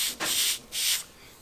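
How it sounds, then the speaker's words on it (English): The straight edge of a Mini Cat's Meow AMA catapult glider wingtip is being sanded: two short, close rasping strokes with a brief pause between them, and no talk. "And then sand this straight edge."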